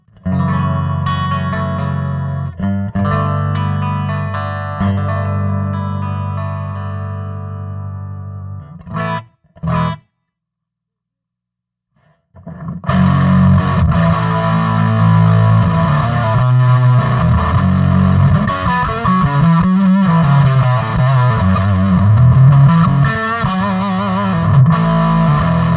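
Distorted electric guitar heard through a single back microphone, loud chorused chords with a short silent gap before the playing resumes for a longer phrase.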